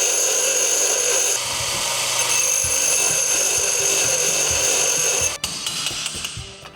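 Chisel hammered against a tight bolt on a Nissan Patrol, giving a run of irregular metallic knocks under a steady high whine from a nearby tool, with a sharp break near the end.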